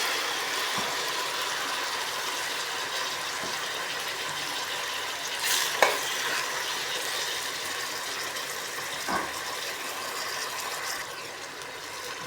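Squid sautéing in a pan gives a steady, fairly quiet broadband sizzle for about twelve seconds, with a few sharp clinks and scrapes of stirring at scattered moments.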